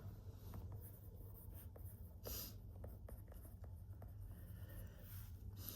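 Pen scratching on paper while a chemistry explanation about chemical compounds is written out, soft steady strokes with short taps, close and quiet over a low hum, no talk.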